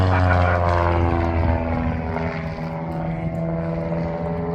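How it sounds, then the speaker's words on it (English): A propeller aerobatic airplane flies a Cuban eight at an air show, its engine droning loud and continuous with a slowly shifting, Doppler-like pitch as it passes. "He rolls the airplane back there, right, pulls back on the stick."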